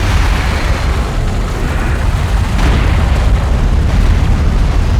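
A light attack vehicle blows up in the strategy game Homeworld: Deserts of Kharak, a loud, dense rumbling blast that roars continuously with no voices over it.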